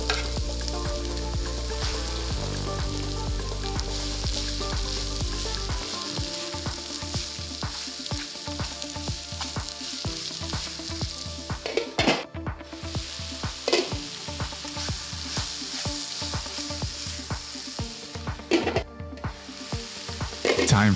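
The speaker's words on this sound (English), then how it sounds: "let's add some onion and carrots and saute them together for 5 minutes" Chopped onion and carrots sizzle steadily in hot olive oil, a continuous close frying hiss broken by a couple of stirring scrapes, with no voices.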